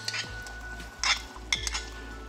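Prawns going into a pot of simmering tom yum soup made with lemongrass, kaffir lime leaves, mushrooms and tomato, giving faint splashes and a few light clinks of a utensil against the pot.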